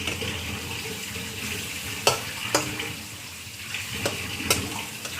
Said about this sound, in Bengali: মশলাটা ভাজা ভাজা হচ্ছে তো